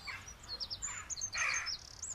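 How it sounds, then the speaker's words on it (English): Several short, bright bird chirps and tweets in bursts over a quiet background, used as a farmyard story sound effect with corn and a scarecrow. "The birds are eating all the corn and standing on the scarecrow."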